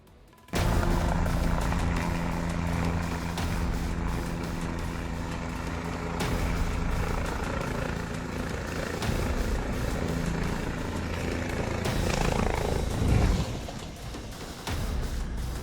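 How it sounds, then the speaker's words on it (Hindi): Helicopter rotor and engine drone, loud and steady throughout, approaching and coming in to land at Raipur, with no voices over the constant throbbing noise. "शिवसेना के एक नेता के हेलीकॉप्टर हवा में लैंडिंग के वक्त क्रैश हो गया"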